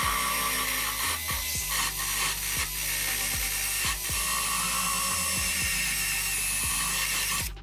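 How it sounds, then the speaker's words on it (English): Brand new wire wheel spun by an electric drill scrubbing aluminum on a jon boat hull, a loud continuous abrasive whir broken by repeated short bursts as the wheel is pressed and lifted; no talk. "I'm using a brand new wire wheel on an electric drill."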